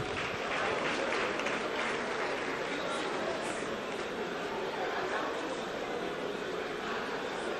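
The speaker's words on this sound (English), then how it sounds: "if your hands are not busy, to please give them a true good round of applause" Sustained applause from a large audience at the NNPC Limited unveiling ceremony, dense clapping that stays steady and loud from start to finish.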